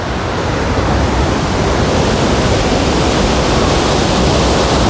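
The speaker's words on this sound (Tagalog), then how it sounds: "So lakas pa rin ang tubig." Powerful floodwater roars through Wawa Dam in the aftermath of Typhoon Ulysses, a loud, dense, unbroken rushing wash filling the whole stretch with no pause or voices.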